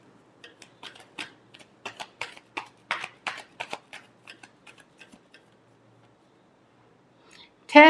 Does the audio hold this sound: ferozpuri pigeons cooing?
no